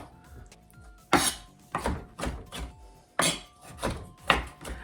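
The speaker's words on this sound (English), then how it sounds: "So I'm just going to finely chop these up and see what they look like" A knife finely chopping dill pickles on a board, with crisp, close chops in irregular clusters, some sharp strikes standing out above quieter cuts.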